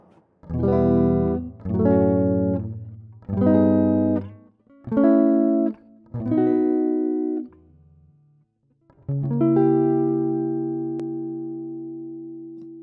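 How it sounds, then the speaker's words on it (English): Five clear plucked guitar notes climb a scale one after another, then after a brief pause a diminished chord rings out and slowly fades. "So I'll play up through the scale and I'll stop on that chord."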